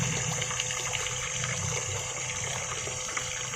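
A mini submersible 12-volt DC water pump runs, pushing a strong flow. It makes a steady, close rushing gurgle of water with no pauses.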